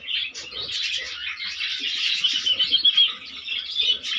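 Many small birds chirping and twittering at close range in a breeding box with chicks, a continuous overlapping chorus of high tweets with no talking.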